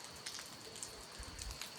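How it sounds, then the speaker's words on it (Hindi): Light rain falls steadily in a rural village, a soft, even hiss with scattered faint patters, distant and quiet, with no voices. "अभी बारिश भी लगी हुई है हल्की हल्की"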